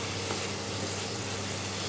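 Carrot halwa, carrots cooked in ghee and milk, is stirred in a pan over a medium flame, giving a faint, steady bubbling hiss with soft continuous texture and no voices.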